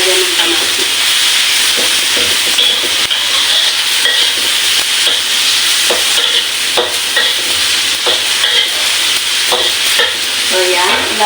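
Tomatoes frying in a pan for monggo with chicken, a dense continuous sizzle with scattered stirring clicks and scrapes, close and steady throughout with no talking.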